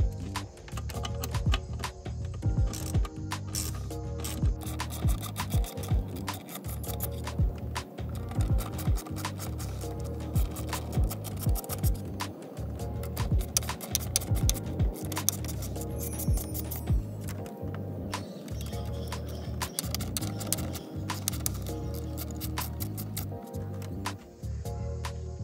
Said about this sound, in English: These four screws are gonna be removed and this whole thing is gonna pop out.